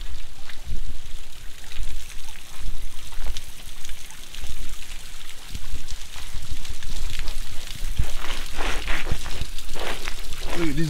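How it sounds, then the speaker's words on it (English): Small trickling waterfalls among icicles near a big drop at Terwilliger (Cougar) Hot Springs in Oregon, a steady close wash of dribbling, splashing water throughout, with faint voices at moments. "Little small waterfalls."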